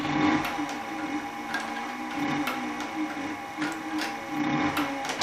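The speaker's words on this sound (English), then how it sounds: "go back about 3 stitches, 2 or 3 stitches. Nice and slow." A Cowboy CB3200 leather sewing machine, a heavy saddle and harness stitcher, runs slowly in reverse, making a steady rhythmic chugging of repeated needle strokes and mechanical clunks at close range with no talk.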